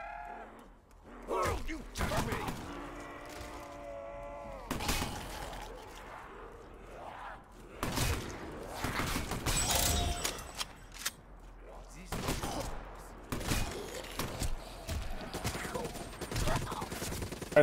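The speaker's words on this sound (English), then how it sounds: "Why is he shooting at me?" Gunfire bursts crack through a round of Black Ops 3 Zombies on a custom map, scattered shots and short rapid volleys mixed with game noise while a player talks over them.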